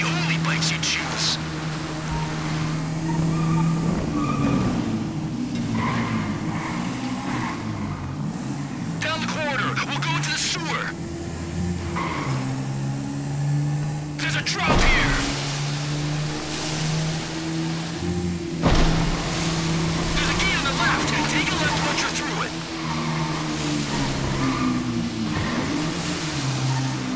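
Motorbikes riding over muddy ground in the video game GTA V, engines droning and rising and falling in pitch as they rev, with someone talking over the engine noise throughout.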